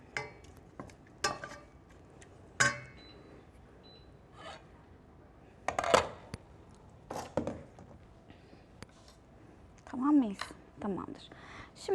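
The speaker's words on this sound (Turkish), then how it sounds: "Şimdi biraz şöyle soğanı güzelce bir karıştırayım." Onions being stirred and sautéed in a pan in a kitchen, with scattered scraping and clacking utensil strokes and faint sizzling under intermittent talk.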